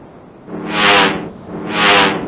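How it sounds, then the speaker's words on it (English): An airplane sound effect from the PC children's game Clifford Musical Memory Games gives two broad, swelling rushes of noise that rise and fade, like passes overhead. The effect is moderately loud, with no speech. "An airplane."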